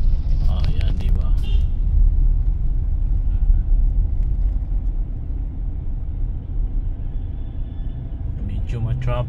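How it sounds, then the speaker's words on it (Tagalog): City road traffic at a rotunda circle in Cubao: a steady low rumble of car and bus engines continues throughout, loud and close, with faint voices now and then. "Medyo ma-traffic."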